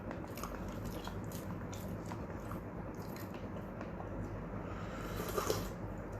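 Someone biting and chewing a crunchy tomato, close and quiet, with repeated soft crunching bites and chewing over a low background hum.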